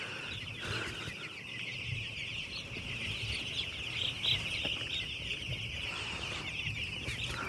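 Chickens on a village poultry farm clucking continuously at low volume, a steady chorus of many birds with occasional brief wing flaps and no talk.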